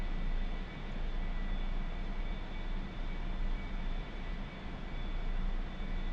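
Jet engine of an A-4E Skyhawk in the DCS flight simulator, a steady loud broadband roar with a low rumble that holds throughout, alone with no talk.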